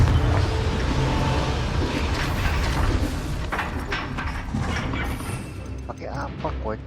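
Loud, dense blast and crashing debris from a Confringo fire curse in Hogwarts Legacy, a rumbling roar that gradually tapers off, with smaller clanks and pops near the end.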